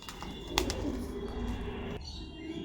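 Chini Kaldum pigeons in a loft stir close by, with soft low cooing and a brief burst of wing flapping early, then quiet rustling.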